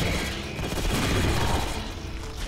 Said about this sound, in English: this dude just threw the nade back at me